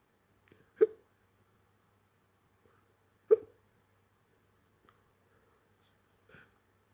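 Someone who has woken up with a hiccup fit hiccups in the quiet, two sharp, fairly loud hiccups a few seconds apart, followed by two fainter ones, with no speech.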